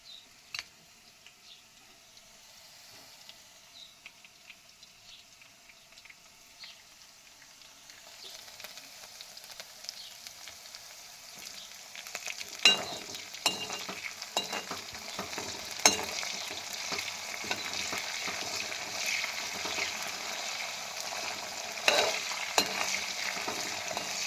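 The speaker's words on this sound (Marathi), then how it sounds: "आता आपण टाकू कढीपत्ता" Curry leaves drop into hot oil already holding green chillies in a frying pan for poha, a soft sizzle building after several seconds into steady crackling and spluttering with sharp pops, near and alone.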